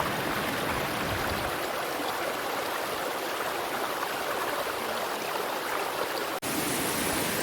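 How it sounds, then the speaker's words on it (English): Rochester Falls waterfall in Souillac, water rushing down in a dense, steady roar of broadband noise, loud and unbroken apart from one brief cut near the end. "You can see the water really coming down here."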